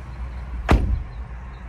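A Subaru Forester's car door shuts with a single solid thump, close and fairly loud, standing alone with a brief rattle after it in a quiet setting.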